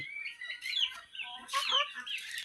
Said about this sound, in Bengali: এগুলো হচ্ছে দেশি মুরগি, ফার্মি মুরগি, আর হচ্ছে বোম্বাই মোরগ